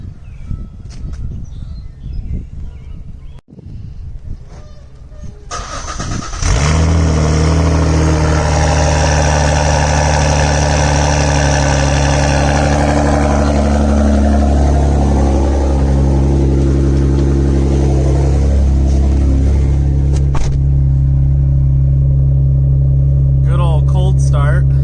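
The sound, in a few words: car engine idling to warm up on a cold morning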